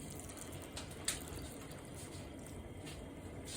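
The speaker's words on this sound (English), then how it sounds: "So I'm going to add 1 cup of water, which is right here." A cup of water poured into a cooking pot gives a soft, steady splashing wash, faint and close, with one brief clink early on.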